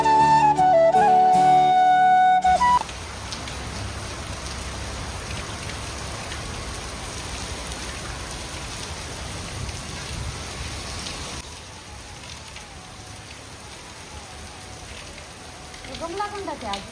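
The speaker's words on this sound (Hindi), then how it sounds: "इतनी देर में काफ़ी तेज़ की बारिश आ गई।" Heavy rain pours steadily as a dense, continuous hiss, preceded by a brief louder burst with a tonal sound at the start; the downpour stays constant and fairly close, easing slightly in level toward the end.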